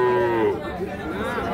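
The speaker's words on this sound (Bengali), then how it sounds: "আমরা যে এই পাশে আরো ষাঁড় বাচ্চা দেখছি" At a village cattle market, a young bull calf lets out a short, loud moo that falls in pitch, surrounded by the murmur of a chattering crowd.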